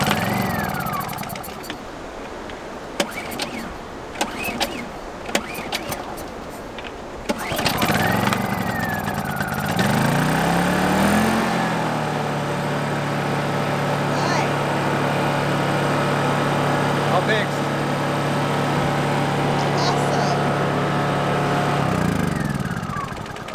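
Small gas engine being pull-started with the choke on after water was cleared from its fuel: several sputtering attempts and pulls, then the engine catches and runs steadily and loud up close, with brief talk early on.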